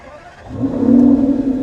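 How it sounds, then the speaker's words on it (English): Aston Martin Vanquish Zagato with a naturally aspirated V12 fires up, a quiet cabin that swells after about half a second into a loud, steady idle. "fire up that naturally aspirated V12"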